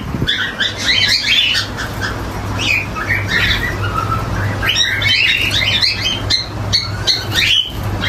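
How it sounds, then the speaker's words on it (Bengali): A flock of java sparrows chirps and squawks close by in a nesting setup with clay pots, a busy overlapping chatter of short calls over a low steady hum. "চলুন আগে জামা পাখিগুলো আপনাদের দেখাচ্ছি"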